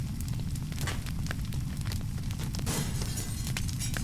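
Crashing and breaking glass in a burning building in a Nancy Drew video game: a steady roar of fire with scattered sharp cracks and shattering bursts throughout, loud and continuous, no voices.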